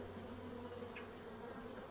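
A continuous low buzzing drone of honey bees at a late summer split hive from a calm, good honey-producing colony, steady and close with no talking over it.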